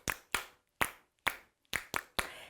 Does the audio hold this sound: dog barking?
no